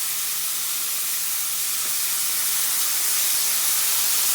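Wet ingredients sizzle in a hot pan in a continuous, bright hiss that swells slightly louder over a few seconds, with no voices over it.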